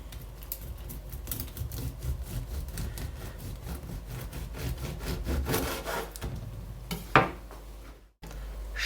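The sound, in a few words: knife slicing a loaf of flourless muesli bread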